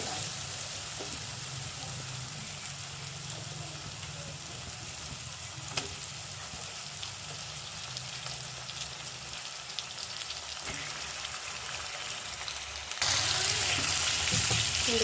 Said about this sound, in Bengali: এবার এই যে পেঁয়াজ আদা রসুনের সাথে চিকেনটা দেওয়া হলো, এটা এখন ভালো মতন কষানো হবে।